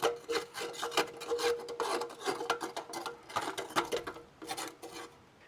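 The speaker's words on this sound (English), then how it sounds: "Now just keep scraping everything out really good once you burn it and it kind of dries off" Metal scraping rasps inside a beekeeping smoker canister as burnt, dried creosote is dug out. Repeated close strokes come in an uneven rhythm with short pauses between bursts, and no one speaks.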